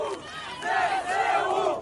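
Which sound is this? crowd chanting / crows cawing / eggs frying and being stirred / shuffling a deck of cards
crowd chanting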